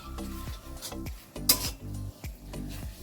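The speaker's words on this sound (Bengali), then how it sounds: "এবার এটা আমি ভালো করে" A spatula scrapes and stirs a thick spice paste with ground cashew and melon seeds in a pan for an aar fish curry. Close, rhythmic scraping strokes with light clinks of metal against the pan, and one sharper clatter midway.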